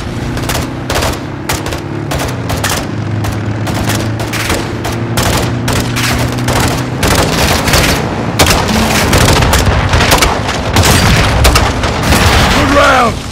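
Launcher rounds and heavy gunfire boom through a Call of Duty Modern Warfare 2 campaign battle, with dense bursts and repeated explosions running continuously while soldiers shout over the din.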